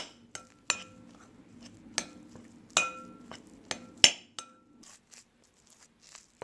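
A utensil stirring cake ball mixture with milk in a bowl, giving irregular sharp clinks and taps against the bowl with quiet scraping between them, close and alone.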